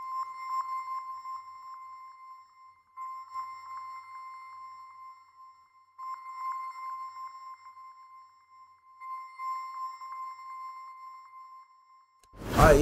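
Dark trap loop built in FL Studio, processed with RC20 retro effect, Valhalla reverb and EQ with highs and lows cut; a steady filtered melodic tone repeats in phrases about every three seconds, with a loud burst at the very end.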